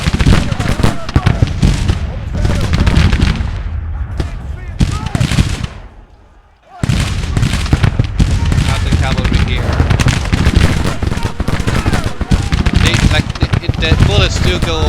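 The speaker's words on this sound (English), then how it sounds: "Give them a volley!" Massed infantry musket volleys in a Civil War battle game, a dense crackling roar of many shots that cuts out briefly and then resumes, loud and continuous, with voices mixed into the din.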